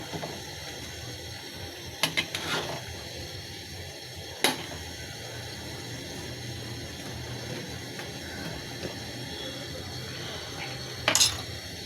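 A spoon stirs bottle gourd curry with cumin in a pot, with a few sharp metallic clinks and scrapes against the pot standing out over a quiet background, spaced irregularly through the stretch.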